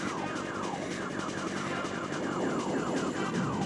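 Rapid blaster fire from the Star Fox video game, a steady stream of repeated shots with descending laser-like sweeps over a constant loud game soundscape, no pause throughout.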